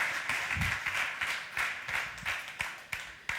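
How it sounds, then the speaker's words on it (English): An audience at a startup conference stage claps for a departing speaker, sparse, fairly quiet hand claps in an uneven rhythm that thin out toward the end. "Please, big applause for Robert."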